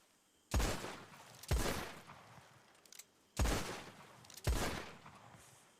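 Five loud, sharp gunshots ring out at uneven intervals in the Red Dead roleplay game WildRP, each with a short echoing tail over a quiet background.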